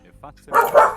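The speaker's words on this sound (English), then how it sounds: "Crazy barking corgi, 1 second." A corgi barking during a game session, a short burst of loud, excited barks in the second half of a one-second moment, following brief quieter sounds.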